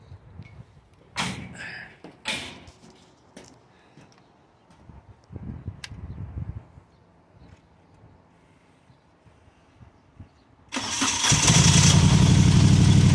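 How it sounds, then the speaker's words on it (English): A Moto Guzzi motorcycle that will not start is tried on its starter button. Faint clicks and knocks give way to a loud, sustained mechanical whir and grind of the starter for the last few seconds. "I hit the starter button just to see what it would do"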